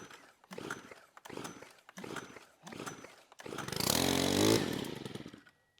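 Pull-starting a brand-new STIHL FS 91 R string trimmer: four separate rough pulls of the starter cord, each a short rasping burst with a pause between, then the engine catches and runs loudly for about a second and a half before cutting off.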